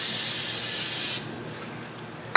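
An aerosol spray hisses loudly and steadily for just over a second in a woodturning workshop beside a glued half bowl, then stops, leaving quiet room tone and a sharp click at the end.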